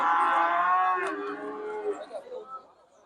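Cattle low loudly at a livestock market in Kyzylorda, one long close moo that rises and fades, followed by fainter moos and softer mooing further off.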